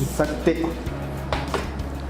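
A cooking pot being picked up and set down, with a few brief metallic clanks and knocks close by, spaced irregularly over a low background hum.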